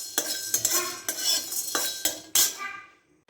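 Whole black peppercorns dry roasting in a pan, with repeated scraping and rattling strokes of a spoon against the metal, close and fairly loud, fading out at the end.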